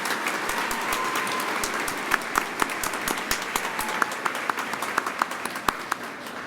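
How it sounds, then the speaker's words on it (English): Audience applause for graduates at a spring college commencement ceremony, a steady even wash of many hands clapping in a large hall, with a few sharper individual claps standing out. "Let's give all of our graduates a nice round of applause."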